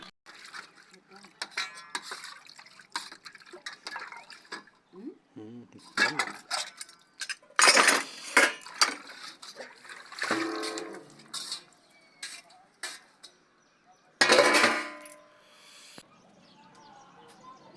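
Dishes, pots and pans clattering and clinking in a rural home kitchen, with bursts of sharp metallic knocks and scrapes between quieter gaps and some faint background sounds.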